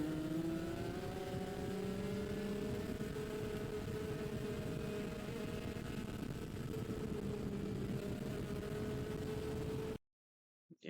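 A race car engine in an X30 class kart holds a steady, buzzing drone with clear harmonic tones, pitch shifting slightly as it runs close and continuous for about ten seconds before cutting out abruptly.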